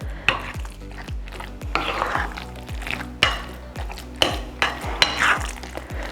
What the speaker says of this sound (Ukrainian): Я його дуже гарно вимішую, щоб він був однорідний.